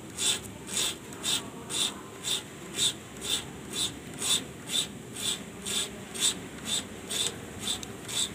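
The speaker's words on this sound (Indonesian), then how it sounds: "Nih cara ngasahnya pakai amplas ya, dia didorong ke depan ya ini." Knife of a Juki bartack sewing machine rubbed with sandpaper, a series of regular rasping strokes about twice per second, close and fairly loud, with no talk.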